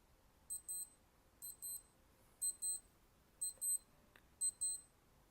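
A Casio AE-1200WH digital wristwatch alarm beeps in five evenly spaced bursts of quick, high-pitched double beeps over a quiet background.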